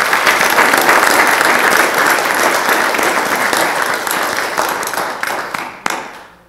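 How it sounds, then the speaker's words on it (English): Audience applause after a 2022 candidate forum in La Verne: sustained, dense clapping from a crowd, loud and steady, tapering off near the end. "Round of applause for our candidates."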